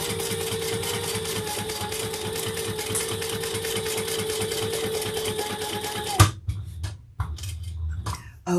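A sewing machine stitching a quarter-inch fabric seam, a fast steady mechanical whir and rapid needle chatter for about six seconds, then stopping abruptly, followed by a few soft handling clicks and rustles.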